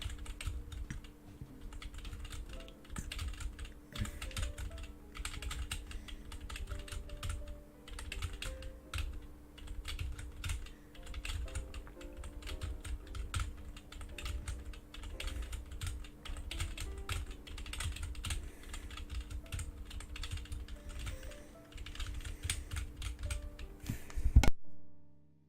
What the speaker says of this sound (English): this keyboard, I have a feeling it's gonna get really annoying really quickly for you guys